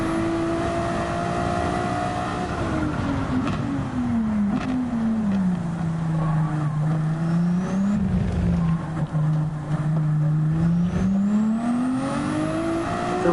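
Race car engine in Gran Turismo 7 held under steady throttle, a loud continuous drone that dips and rises in pitch through a corner and climbs again, with faint tire noise.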